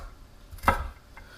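A knife chopping celery on a cutting board for jambalaya: one short, crisp knock, then a fainter tap, in a quiet room.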